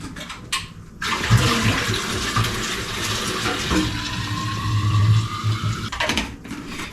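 Water from a tap runs steadily into a bottle being refilled with cold water, a continuous loud gush that fills most of the clip, with a soft rising pitch near the end as the bottle fills.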